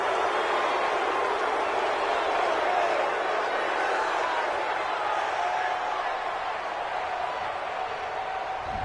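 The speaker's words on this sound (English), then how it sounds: "This home crowd, they're happy with that call." Home crowd roar in a PS4 American football video game after an interception, a steady dense wash of cheering that holds loud throughout.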